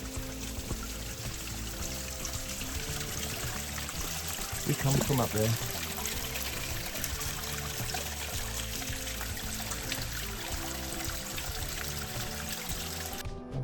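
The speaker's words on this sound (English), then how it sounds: "another waterfall" Lower Ballanjui Falls in Binna Burra National Park pours steadily as a broad, constant rushing wash of water nearby, with a voice briefly speaking over it.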